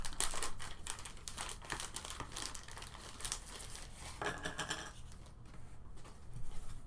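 Close, continuous crinkling of a plastic bag being handled while unboxing a Star Wars X-Wing Scum and Villainy expansion, with brief louder rustles at the start and end.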